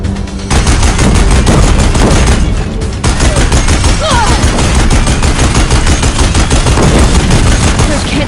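Deathbringer machines fire heavy rapid bursts in Horizon Zero Dawn, a loud, relentless barrage of gunfire and booms that barely lets up, with a brief dip in intensity partway through.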